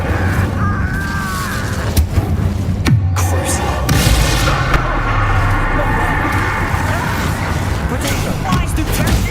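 An Incendio fire spell is cast in Hogwarts Legacy, a loud sustained roar of booming crashes and crackling impacts that runs throughout, with voices talking over the din.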